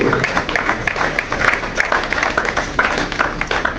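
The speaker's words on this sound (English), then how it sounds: "Come on, let's give him a round of applause." A crowd claps steadily at a skills academy graduation, loud and close with quick irregular hand strikes filling the whole stretch.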